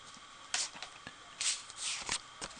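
Sheets of Stampin' Up All My Love Designer Series paper are handled close by, giving quiet, papery rustles and brief crisp flicks in an irregular rhythm.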